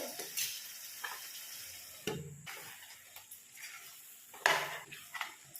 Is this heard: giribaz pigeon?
no